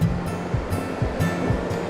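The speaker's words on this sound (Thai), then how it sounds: "มีน้ำทะเลขึ้นซัดโขดหิน" Sea waves surging against the rocks at Laem Phromthep in Phuket, a loud, continuous roar of surf with rhythmic swells, close by, no speech.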